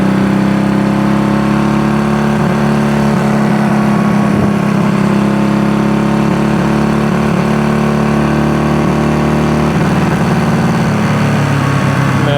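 Honda CB200T motorcycle engine running steadily and loud throughout, a constant mid-pitched drone with harmonic layers and slight flutter, briefly rising around the tenth second as it pulls in fifth gear, with faint carburetor breakup.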